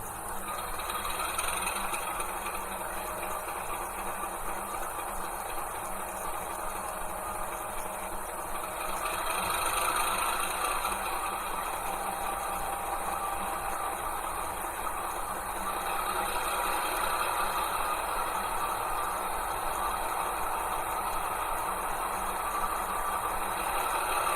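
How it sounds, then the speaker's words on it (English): A NSW 48 class diesel locomotive accelerates in a train simulator, a continuous droning engine rumble that holds steady and swells slightly as it comes up through the throttle notches, with no talk. "the locomotive starts accelerating and coming up through the notches"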